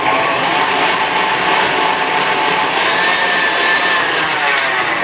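An electric mixer whirs loud and steady throughout as egg yolks are mixed into stiff, thick egg whites for chile rellenos batter.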